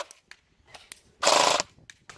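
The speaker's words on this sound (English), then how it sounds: "we've got a stoner, which is a light machine gun, okay, and it's firing" A Stoner light machine gun fires one loud, sustained burst lasting about a third of a second, with scattered sharp single cracks before and after it.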